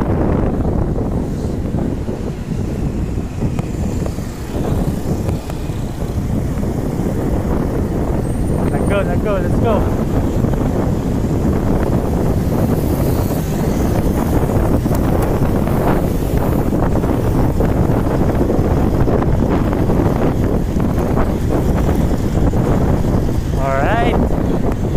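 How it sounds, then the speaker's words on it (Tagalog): Strong wind buffeting the microphone while riding a bike, a constant loud roar and rumble with gusty bursts, and someone talking briefly over it. "Lakas ng hangin."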